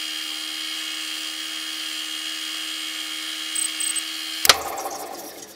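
Brass dinner bell spinning on a lathe at low RPM while finish is rubbed in by hand: a steady, even mechanical whir holding for several seconds, then a brief scraping clatter and a fade as it winds down. No one speaks.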